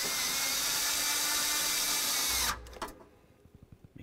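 A power tool spins up loudly and steadily tightens bolts on a performance air intake kit for a 2001-2006 Silverado 2500 HD truck, then cuts off, followed by a few soft clicks and taps.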